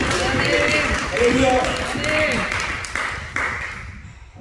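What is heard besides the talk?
congregation applauding in church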